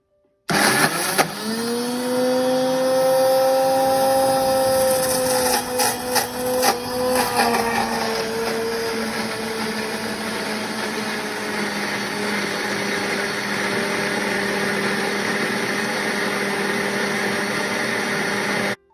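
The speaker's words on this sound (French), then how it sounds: "je l'intègre aux noix de cajou en mixant, en faisant fonctionner le blender" A blender runs steadily and loudly as it blends cashew nuts into a vegan herb cheese, its motor pitch dropping slightly as the mixture thickens, with no talking.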